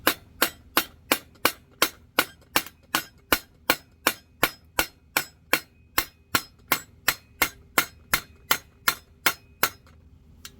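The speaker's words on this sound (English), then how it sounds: "I'm going to take a little body hammer and dolly and straighten it out" Steady, evenly spaced body hammer blows straightening a car exhaust pipe, over twenty in a row, each ringing sharply and close, with no talking.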